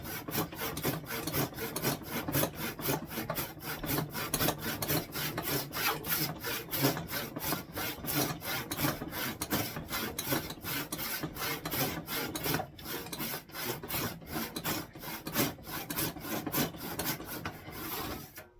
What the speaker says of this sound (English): I'm gonna pause the video and cut my kerf. I'm gonna do it with the handsaw